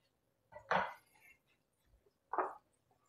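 A spatula works wet and dry cookie dough ingredients together in a bowl, giving two distinct, close, soft scraping and thudding strokes about two seconds apart, with quiet in between.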